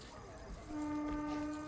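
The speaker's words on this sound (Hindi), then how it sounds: "वहाँ पे वो डेमो ट्रेन एग्जिट कर रही है" A DEMU train pulls out of a station, its steady horn tone sounding over a low rumble of rail noise, faint and distant.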